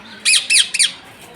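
Parrot squawking three times in quick succession, harsh and fairly close, with quiet background afterward and no talk.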